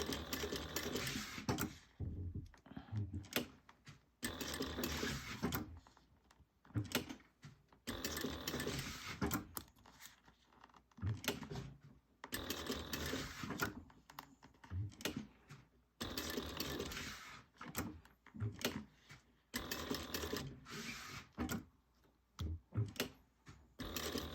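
A sewing machine stitches curved bag pieces in repeated close, loud bursts of rapid rattling stitches, stopping briefly between runs as the fabric is turned, with no voices over it.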